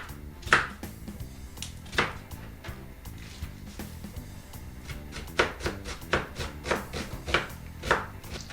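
An onion is chopped finely with a knife on a board, sharp irregular taps coming in quick runs and pauses, close and fairly quiet.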